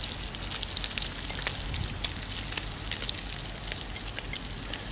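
Garden sweet potato slices fry in bacon grease over a sawdust rocket stove, a steady hissing sizzle full of fine crackles and tiny pops that runs continuously and fairly close.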